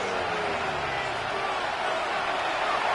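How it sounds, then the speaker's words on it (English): Steady, dense stadium crowd roar from the Madden football video game, holding loud and even throughout with speech over it. "What about this crowd getting even louder before 3rd and 10?"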